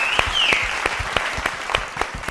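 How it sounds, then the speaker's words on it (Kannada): An audience at a televised Kannada music show breaks into loud, dense applause, with many hands clapping together in a sustained burst and a brief high whistle near the start. "ಜೋರಾದ ಚಪ್ಪಾಳೆ ಬರಲಿ."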